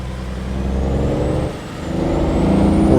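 A Peterbilt 579 truck with a 600 hp Cummins X15 engine in American Truck Simulator drones steadily and loudly, dipping briefly midway before swelling again, with a thin whine running above the low rumble.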